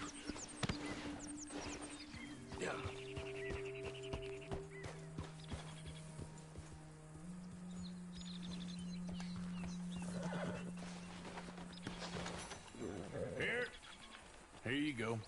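In Red Dead Redemption 2, a horse is ridden, with faint hoof clops and a whinny or two under frequent speech and game dialogue, backed by a sustained low musical tone.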